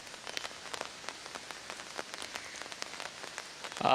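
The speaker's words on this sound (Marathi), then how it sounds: "मुंबईत देखील सकाळपासून पावसाला सुरुवात झालेली आहे" Rain falls in Dadar, Mumbai, a soft patter of scattered drops striking a nearby surface, fairly quiet and uneven, with a brief louder burst at the very end.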